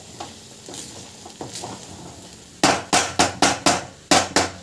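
Upma is stirred in a pan, giving soft scraping and sizzling at first, then a run of seven or eight sharp, loud knocks of the spoon against the pan in quick succession.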